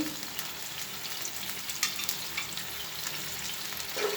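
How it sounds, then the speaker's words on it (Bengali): Ground spices with a raw spice paste sizzle and fry steadily in a pan while being stirred, with a dense continuous hiss and small scraping knocks, fairly close and without talk; the dish is kochur loti with dried shutki fish. "এখন আমি এগুলো নাড়াচাড়া করে নিব নাড়াচাড়া করে মশলাগুলো কষিয়ে নিব"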